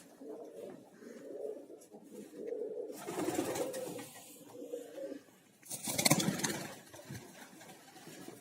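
European parlin pigeons coo in repeated low, throaty phrases close by, with bursts of rustling or wing flaps and faint engine noise behind.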